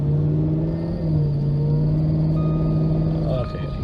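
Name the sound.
car engine revving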